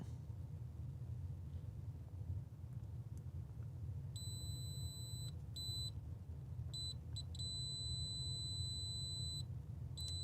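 A Fnirsi tester beeping in diode test mode, with a run of high electronic beeps that switch on and off irregularly before one long held tone, over a low background rumble.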